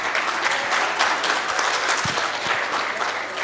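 Crowd applause for volunteers at a Faisalabad comedy event, dense and even clapping from many hands, close and steady throughout.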